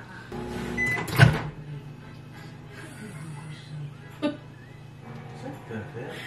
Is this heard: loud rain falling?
no